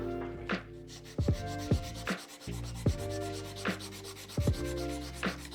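Aluminium foil rubbed against a rusty hammer, repeated scraping strokes in an uneven back-and-forth rhythm, close and fairly loud, with no talking.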